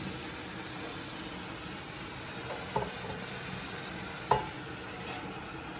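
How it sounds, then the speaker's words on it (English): Mixed vegetables, including broccoli and cauliflower, sauté together in a pan as a steady, moderate sizzle, with two sharp clinks of utensil against the pan. "we're just going to saute all of this up together now"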